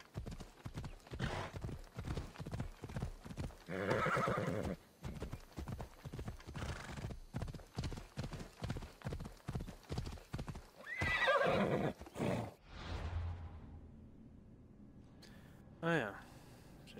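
A horse in the video game Assassin's Creed Odyssey clip-clops along in a fast, regular hoof rhythm, whinnies loudly twice during the run, then slows and snorts near the end.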